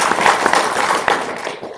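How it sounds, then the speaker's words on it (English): A lecture-hall audience at a science festival in South Africa claps loudly, a dense wash of many hands with a few sharper slaps standing out, steady for under two seconds. "So give her a round of applause real quick."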